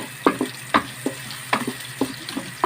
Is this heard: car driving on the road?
no